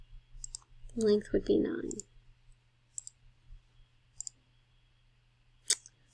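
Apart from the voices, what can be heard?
typing an answer on a computer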